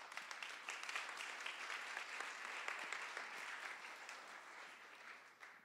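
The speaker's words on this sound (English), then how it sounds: "Let's give him another round of applause." A conference crowd at a social media case-study session gives a round of applause: many individual claps form a steady wash that holds, then tapers slightly toward the end.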